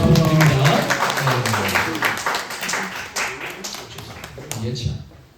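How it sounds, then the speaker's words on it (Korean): A church youth-service congregation claps under a talking voice, brisk scattered handclaps spread across the moment that thin out toward the end. "큰 박수 부탁드립니다."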